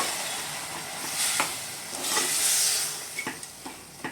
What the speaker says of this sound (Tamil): இப்போ இந்த வெந்த தண்டை நான் சேர்த்துக்கிறேன்.